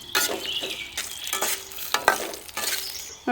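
Crackling and scraping in a dry pan as dried chilies roast until puffed, with bursts of stirring and sharp pops spread over a few seconds, close by.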